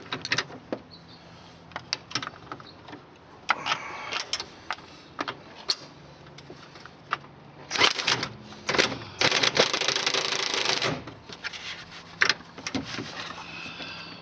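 A deep socket wrench works the strut nuts on a 1993 Cadillac Allante, giving a close series of metallic clicks and rattles and a longer burst of dense ratcheting in the middle, with scattered clanks afterward.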